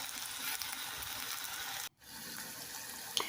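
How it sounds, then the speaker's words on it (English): Spinach sautes in a pan with a bright, steady sizzle, close and continuous, briefly cut off midway before resuming with a small clink. "So here we're sauteing some spinach."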